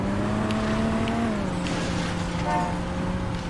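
A car engine drones steadily while being driven in Saints Row 4, a continuous mid-loud hum whose pitch dips slightly partway through, with no talk over it.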